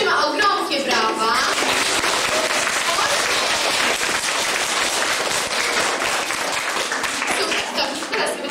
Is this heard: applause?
yes